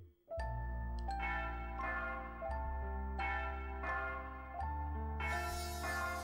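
Bell chimes from the video game Dual Hearts ring out one after another in a steady, resonant melodic sequence, each tone sustaining and overlapping the next, with a brighter shimmering chime at the end; no voices.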